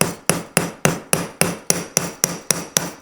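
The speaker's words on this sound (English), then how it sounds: "I'm going to come along and make this series of hammer blows right along the" A hammer strikes along the edge of a metal sheet during foldforming, with about ten sharp, evenly spaced blows ringing close and loud, one after another, with no voices.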